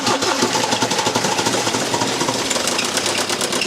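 A car engine runs briefly with its crankshaft pulley removed, giving a harsh, rapid, rattling clatter that stays loud and close for a few seconds.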